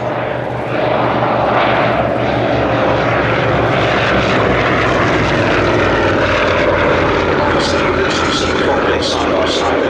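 Avro Anson twin-engine propeller aircraft flying at the Shuttleworth airshow, a loud continuous droning engine roar with a pulsing propeller beat, close and steady throughout, with a voice talking over it.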